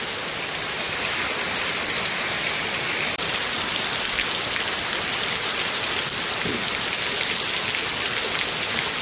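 Wind-driven downpour over farmland roars steadily after a slightly softer opening second, a dense, even rush of rain that fills the whole stretch.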